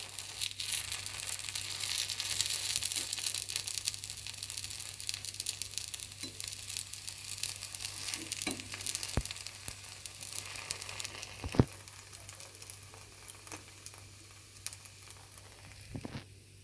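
Idli-batter rava suchiyam frying in a pan after being flipped, giving a steady, soft sizzle throughout with a few faint clicks and no talking.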